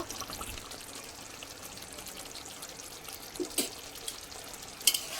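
Bengali doi katla fish curry with garam masala stirred gently in a pan: a faint, even bubbling sizzle with a couple of light spoon clinks near the end.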